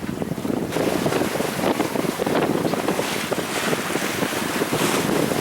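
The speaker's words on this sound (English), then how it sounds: "We had a little gust come in there for a second." Steady roar of wind buffeting the microphone aboard a heeled-over sailboat in the Gulf of Mexico, with water rushing along the hull as a gust from a small passing rain shower fills the sails; no talking.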